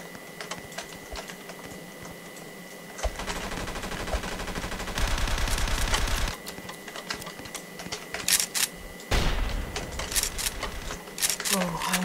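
Sniper rifle fire in a video game cuts through sharp shots and rattling bursts of rapid gunfire, loud and close, with game sounds in between.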